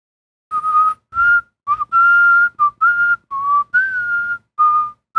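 A person whistles a sequence of short, clear tonal notes with brief pauses between them, close and alone with no talking.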